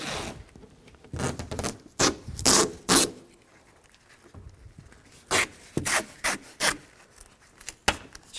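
Tape pulled off the roll in quick ripping strips while taping up the rear window of a 2004-2008 Nissan Maxima, several sharp close tearing bursts separated by short pauses.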